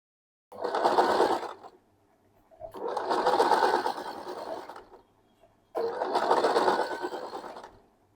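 A sewing machine stitches a ruffle onto a saree in three separate bursts of a few seconds each. The whirring is close and clear, with short pauses between the runs.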